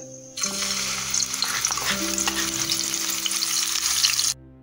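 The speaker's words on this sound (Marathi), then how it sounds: "कांदा आपल्याला तेलामध्ये थोडासा गुलाबीसर करायचा आहे मिक्स करत राहायचं आहे" Onion paste sizzles loudly and steadily in hot oil, with occasional stirring scrapes and a low, constant hum underneath.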